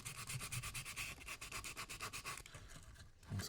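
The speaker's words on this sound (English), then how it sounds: "and then I'll go ahead and sand it." Rhythmic back-and-forth rasping of sandpaper on a hand-carved wooden relief, close and steady, about a dozen strokes before slowing near the end.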